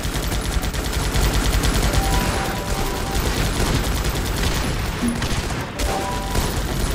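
Dense, continuous gunfire and overlapping bursts in the war video game Guns Up!, loud and sustained for the whole stretch with no pause in the shooting.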